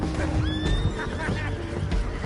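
A horse in the video game Red Dead Redemption 2 lets out a loud, close whinny over a dense, noisy game mix with hoof clatter and background commotion.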